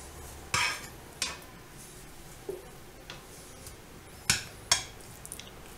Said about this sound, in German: Hier habe ich die Pfanne schon mal vorgeheizt. Da kommen die Abschnitte rein.